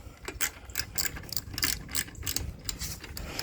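A ratchet on a 13 mm socket loosens a Nightster motorcycle exhaust bolt, giving a rapid, close run of quiet mechanical clicks in short back-and-forth strokes.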